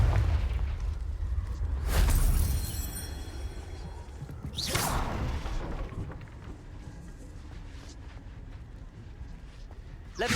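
A Confringo fire spell from the Hogwarts Legacy video game goes off as a burst, its whooshing blast around two seconds in, followed by a second strong rush near five seconds over a steady rumbling game backdrop.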